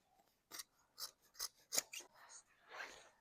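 Scissors snipping through cushion stuffing, about six crisp separate cuts in an uneven rhythm, close and fairly quiet, followed by a softer rustling rub.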